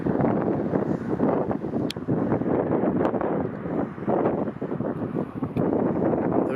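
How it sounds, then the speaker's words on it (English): Wind buffets the microphone while riding a Pashley Sovereign bicycle on an outdoor road, a continuous loud rough rumble with gusting surges and no voice audible over it. "Not sure if you can hear me because of the wind"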